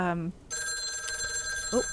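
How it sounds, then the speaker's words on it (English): Telephone ringing in the video game Lake, a steady electronic bell-like trill sustained for about a second and a half, with a voice talking briefly just before and just after it. "we'll go ahead and take this phone call"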